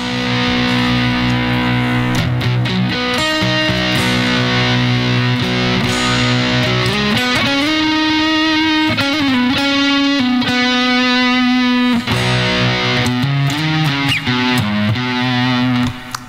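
Distorted electric guitar through a distortion effects patch plays sustained, buzzing notes and chords, thick and saturated, continuing steadily with shifting pitches and no talking.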